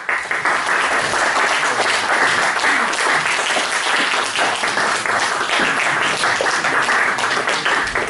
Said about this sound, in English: I would request you all to give a big applause to the team that has come from the National Theatre of